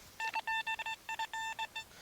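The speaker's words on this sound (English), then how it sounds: "that was an overload sound" Rapid series of short, tonal electronic beeps from an XP Deus II metal detector signalling overload while digging in Derbyshire soil, about ten clipped pulses in quick succession, close and loud with no talking.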